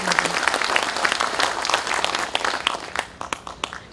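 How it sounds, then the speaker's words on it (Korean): Hall applause at a national general assembly of retired police officers, a crowd clapping steadily and fairly close, thinning toward the end into a few separate claps. "박수 부탁드립니다"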